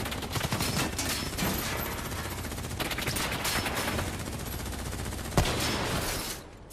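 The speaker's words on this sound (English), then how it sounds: "Who's shooting?" Sustained automatic gunfire in the Call of Duty Black Ops III video game, dense rapid bursts of shots rattling continuously with one sharp louder crack near the end before the firing tapers off.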